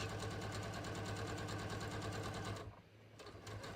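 A sewing machine runs a steady half-inch seam on Frenchie jeans at a 2.5 stitch length, its fast even rhythmic whir loud and close, pausing briefly near the end before resuming.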